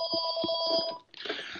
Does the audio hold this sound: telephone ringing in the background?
yes